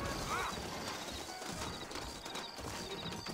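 Horses clip-clop steadily and neigh in Red Dead Redemption, with hooves and whinnies under a busy in-game ambience of a frontier town.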